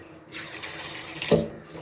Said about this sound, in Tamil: இப்போ வந்து நிறையா தண்ணி ஊற்றாமல் கொஞ்சமாக தண்ணி ஊற்றிக்கோங்க